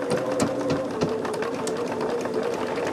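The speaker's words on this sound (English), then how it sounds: "So I am actually folding this over and sewing it at the 3/8 inch also" A sewing machine stitches folded quilt fabric at a 3/8-inch seam, giving a steady, close, continuous mechanical whir with a rapid needle patter throughout and no pauses.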